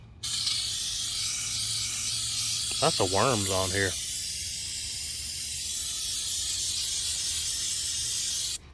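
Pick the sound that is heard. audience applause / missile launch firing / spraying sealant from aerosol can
spraying sealant from aerosol can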